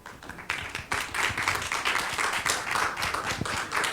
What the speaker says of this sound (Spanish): Brindemos un fuerte aplauso